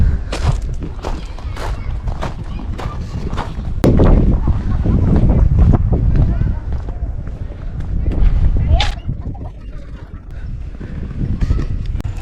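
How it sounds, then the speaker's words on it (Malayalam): Cold wind gusting steadily across the microphone at a camping hut area by Al Jazr Dam in Masfout, a loud continuous rumble with a person speaking over it. "നല്ല തണുത്ത കാറ്റുണ്ട്."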